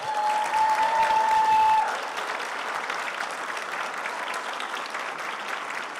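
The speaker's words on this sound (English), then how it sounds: "I would like you to give a round of applause to your family and loved ones" A ceremony audience at a medical school white coat ceremony applauds family and loved ones; dense, steady clapping from a large crowd follows a brief tone at the start and carries on evenly to the end.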